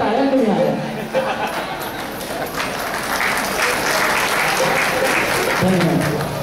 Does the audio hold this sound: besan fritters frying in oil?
no